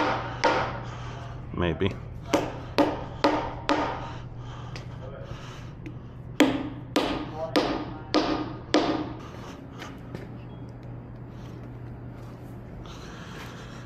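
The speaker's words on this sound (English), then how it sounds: "tapping it with the mallet's not working" A mallet taps on the housing of a 40,000 lb Ramsey winch to break the gasket seal. Sharp knocks come in two quick bursts of about six strikes each, close and clear, with a short spoken word between them.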